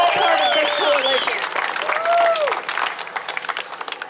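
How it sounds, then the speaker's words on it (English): Applause from an audience at a clean water rally about an Okeechobee phosphate dump, a crowd clapping and cheering that fades out, with other sounds layered over it. "Please give Leon Abood a round of applause"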